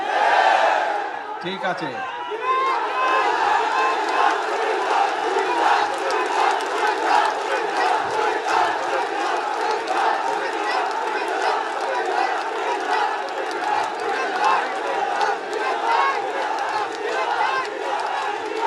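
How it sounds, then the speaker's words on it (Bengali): At a political rally in Comilla, a large crowd chants and shouts slogans in a continuous roar of voices that stays loud and dense throughout, with a speaker briefly heard at the start. "আসার সময় আমি দেখলাম সবাই স্লোগান দিচ্ছে, কি চাই? কুমিল্লা বিভাগ"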